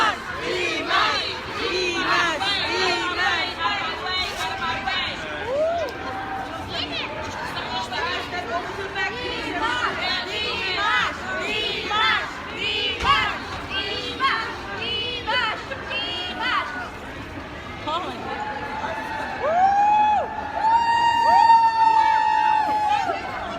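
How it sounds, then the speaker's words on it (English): Fans cheer and scream for a singer on his arrival at JFK International Airport, a dense crowd of shrill calls and chatter that swells into loud whoops near the end. "And the crowd's going wild."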